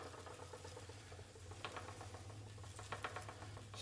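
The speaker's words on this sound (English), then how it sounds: "Spin of the wheel." A vintage Castle spinning wheel turns in a quiet room, giving a faint steady whir with soft rhythmic ticks and taps, heard close but at low volume and with no speech.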